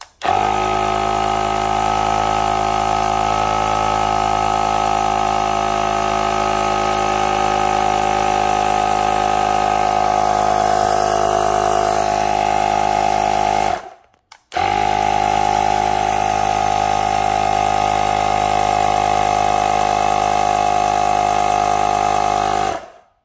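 Slime cordless tyre inflator pumps with a loud steady buzzing drone for about fourteen seconds, cuts out briefly, then restarts and runs another eight seconds before stopping.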